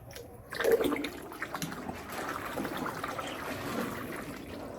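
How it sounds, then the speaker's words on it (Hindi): Sugar syrup poured into a kadhai holding ice and water for sikanjbeen sharbat, a close, continuous liquid trickle and splash lasting a few seconds. "और अब इसमें डालेंगे चीनी का शीरा।"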